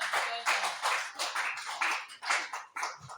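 A church congregation claps in rhythmic bursts, a dense crowd of hands beating steadily at close range, with a voice faintly underneath.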